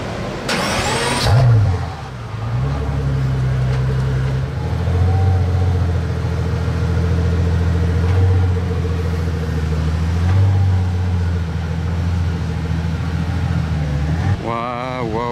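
A big AMG V12 car engine starts with a sharp burst, then settles into a deep, steady idle with a slight rise in revs midway; a voice briefly speaks near the end.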